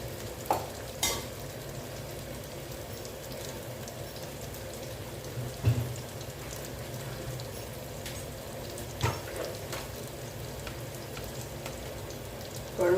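Continuous soft sizzling of food sautéing in a pan, with turmeric powder added, and occasional clinks and scrapes of stirring.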